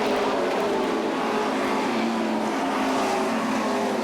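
Stock cars race down the back straightaway at Beech Ridge Motor Speedway, engines droning loud and constant as the field passes close, with no talk over it.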